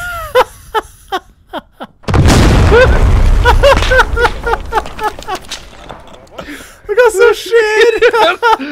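A planted explosive detonates in a video game with a sudden heavy boom and a long rumbling tail, while several people keep talking over and around the blast.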